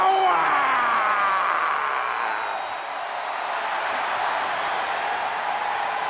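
Game crowd in WWE 2K20 applauding and cheering, a dense, steady roar of clapping that stays loud and close for the whole stretch with no talk over it.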